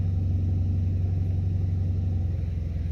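A 4-cylinder turbocharged Camaro running on E85 idles steadily, a low, even engine rumble close to the microphone with no talking.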